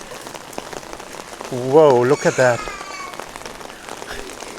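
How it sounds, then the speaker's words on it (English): Heavy autumn rain falls in Medjugorje, a steady wash of patter heard throughout, while voices talk over it near the middle. "a lot of rain."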